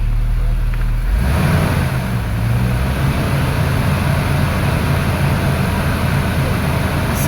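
A 2005 Jeep Wrangler engine running steadily as it is shifted into drive, a low hum that rises slightly after the first second and holds, close and continuous.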